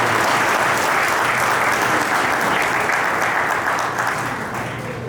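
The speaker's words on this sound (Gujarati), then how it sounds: "એને હાથ સુધી લાવીને જોરદાર તાળીઓથી એમનો આભાર" Loud, sustained applause from a large audience thanking a motivational speaker at a community gathering, a dense roar of clapping that fades slightly toward the end.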